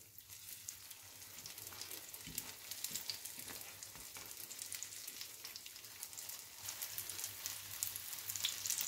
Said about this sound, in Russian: Оладьи у меня обжарились с одной стороны